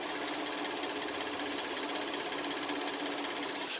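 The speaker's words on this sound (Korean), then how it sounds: "엔진 소음 먼저 들려드리면은" A Hyundai Grandeur HG300 with its 3.0 engine idles in a used car, a steady, smooth mechanical whir heard up close, quiet and even with no knocking or surges.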